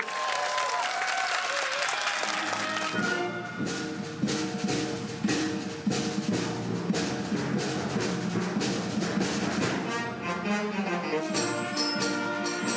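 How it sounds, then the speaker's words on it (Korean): An audience at a children's youth wind orchestra concert claps along, the applause steady and loud with rhythmic beats while the band plays brass and woodwind music over it. "박수 한번 주세요"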